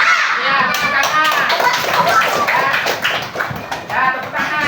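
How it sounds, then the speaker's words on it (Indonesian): Children in a classroom clapping together, a dense, loud patter of many small hands mixed with excited kids' chatter and shouts, close and continuous for several seconds. "Ya, tepuk tangan."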